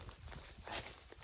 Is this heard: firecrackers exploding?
no